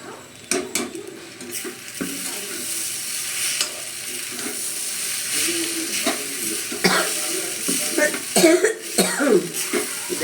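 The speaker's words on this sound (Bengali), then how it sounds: "দেখেছো বন্ধুরা কত কাশছি আমি" A woman who is ill coughs repeatedly in short, harsh bursts, close by, over a background of sizzling and stirring in a pan. Some voice sounds are mixed in.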